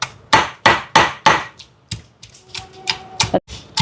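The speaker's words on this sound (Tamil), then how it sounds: "இனி தக்காளி பழம், இதையும் லைட்டாக ஒரு இடி இடிச்செடுப்போம்" Tomatoes lightly pounded for crab rasam, struck with sharp close knocks: four strong evenly spaced thumps, then a looser run of softer, quicker taps, with no talk.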